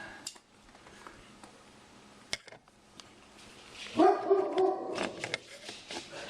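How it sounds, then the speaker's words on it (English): A dog barks and whimpers indoors during a dishwasher installation, a short cluster of yips and barks in the middle amid faint clattering and knocks, moderately close. "Here goes my dog."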